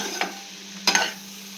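Shredded cabbage for a wedding-style poriyal, lightly salted and tossed in a pan, gives soft scraping stirs over a faint sizzle, with two or three brief spatula strokes in a short quiet stretch.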